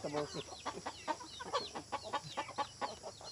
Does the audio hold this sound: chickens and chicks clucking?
yes